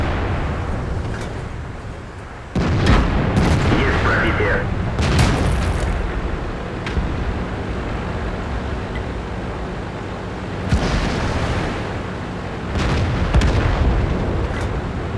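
Tank cannon fire from an IS-3 in the World of Tanks video game, with heavy booming shots and explosions that burst out several times amid steady battle rumble, with a voice talking over it.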